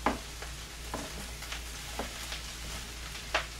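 Onions frying in oil in a pan, a soft steady sizzle with a few sharp stirring clicks and scrapes spaced through the clip, fairly quiet and close, no talking.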